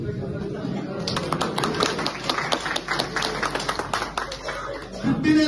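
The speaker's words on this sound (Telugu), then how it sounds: "మధ్యలో చప్పట్లు ఉండాలి" A crowd claps together at a birthday celebration, a dense burst of applause that starts abruptly and rolls on steadily, with people's voices mixed in.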